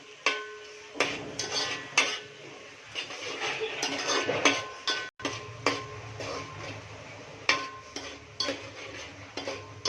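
Chopped onion for misal cooks in a pan while a spatula scrapes and clinks against the metal in irregular, fairly close strokes over a soft frying hiss.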